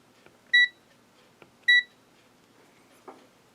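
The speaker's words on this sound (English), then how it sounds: "Now I'll put the meter on diode test." A multimeter set to diode test gives two short, clear electronic beeps about a second apart, close and fairly loud, with faint clicks of the probes between them.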